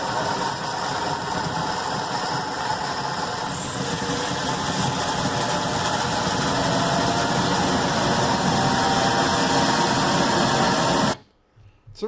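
An engine idles steadily with a mechanical, rattling chatter, running evenly before cutting off abruptly near the end.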